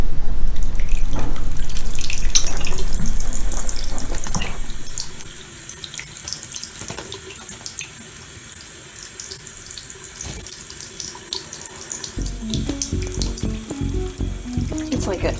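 A parrot bathing in a water bowl, splashing steadily and loudly through the first seconds, then quieter, continuous water noise with scattered drips and flicks until a busier splashing burst near the end.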